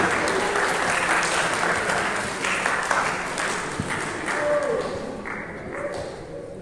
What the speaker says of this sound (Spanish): Por favor, todos bríndenle un fuerte aplauso